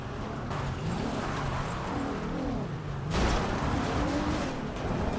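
Car engine in a police-themed video game, steady droning motor under a shifting pitched whine, with a louder surge near the middle as it accelerates, continuous throughout.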